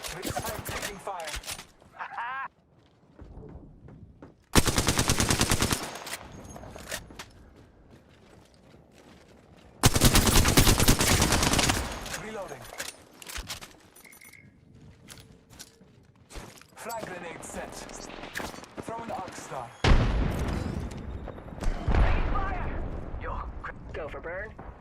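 Gunfire in the video game Apex Legends, with loud bursts of shots coming and going under and between a player's talk.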